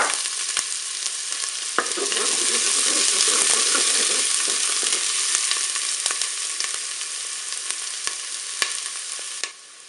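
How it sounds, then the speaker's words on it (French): Onions frying in hot oil inside a Cookeo multicooker pot give a steady, close crackling sizzle for the whole stretch, broken by a few sharp clicks of stirring. "je vais pouvoir faire revenir mes oignons"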